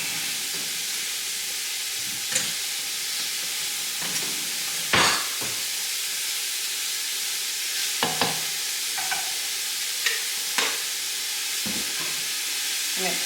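Garlic sizzling in a hot pan, a continuous bright hiss with intermittent scraping and tapping stirs of a spoon, close and steady with no talk.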